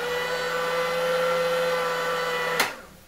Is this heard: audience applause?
no